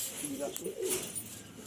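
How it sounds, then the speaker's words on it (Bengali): Pigeons in a loft let out a few soft, low coos, close but faint, over a quiet background with some airy rustle. "এগুলো আমার লফটেরই পায়রা"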